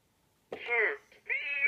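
An electronic cat meows twice from a Vtech Little Smart Talk 'n Smile Town children's toy: two short, close, clear mews after a brief silence.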